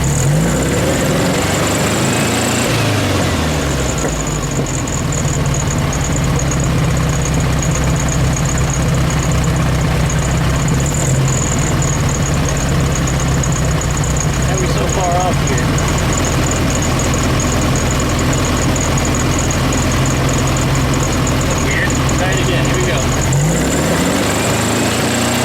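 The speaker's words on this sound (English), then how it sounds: "So what we're going to do is we're going to rev it, and we're going to see how far it swings up." The engine of a 1972 VW Beetle idles loudly and close by in a steady mechanical chug, rising as it is revved up, holding, then dropping back near the end.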